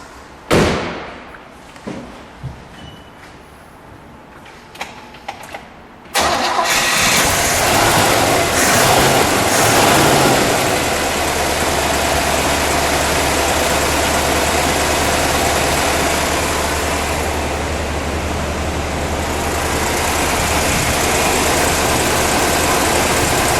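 1963 Chevrolet Corvette Split Window with a 327 V8: a few sharp knocks and clicks, then the engine catches abruptly and settles into a loud, steady, close idle.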